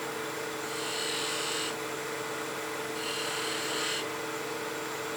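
A wooden spinning top is parted off on a lathe: a steady motor hum carries two rougher, brighter cutting passes of about a second each, with no voices.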